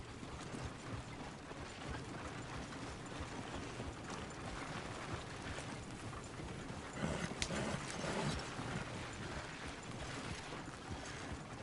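Horses gallop in Red Dead Redemption 2, hooves drumming in a fast, continuous clatter that swells slightly louder partway through, with no talking over it.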